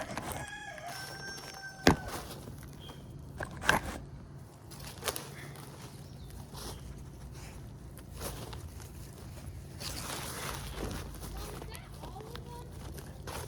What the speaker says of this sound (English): it's causing Carlos to crow like crazy